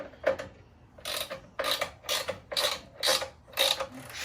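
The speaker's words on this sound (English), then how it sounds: "take off these 4 screws, remove this rear fender" A ratchet wrench clicks through rapid bursts, about seven in a steady rhythm, while removing rear fender screws on a 2012 Can-Am Spyder. The ratcheting is close, loud and mechanical, with short pauses between strokes.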